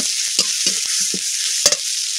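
A steady sizzle of frying fills the clip while a spoon scrapes and stirs Kashmiri chilli powder and spices through the pan in short, repeated strokes.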